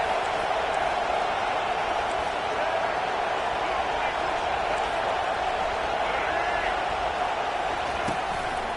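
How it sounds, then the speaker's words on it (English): Dense stadium crowd at a football game roars steadily, a continuous loud wall of cheering and noise that holds evenly throughout with no pauses. "Listen to this crowd just shaking the girders of this place"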